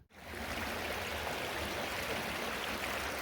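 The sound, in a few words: flowing creek water in woods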